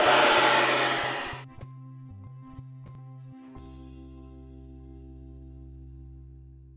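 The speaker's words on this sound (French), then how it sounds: "c'est reparti, la brosse ronde, le fameux sèche-cheveux, et c'est parti pour le deuxième brushing" A hair dryer, used with a round brush to blow-dry hair, roars loudly for just over a second, then cuts off abruptly, leaving sustained electronic tones and a few sharp clicks.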